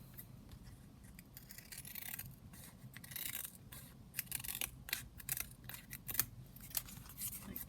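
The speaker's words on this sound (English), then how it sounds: "So what I'm going to do is trim around it." Scissors snip and slide through paper in a quick run of close, quiet cuts while trimming around a piece for a junk journal, with soft rustling between cuts and no talking.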